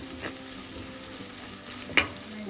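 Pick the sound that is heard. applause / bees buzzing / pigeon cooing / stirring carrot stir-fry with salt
stirring carrot stir-fry with salt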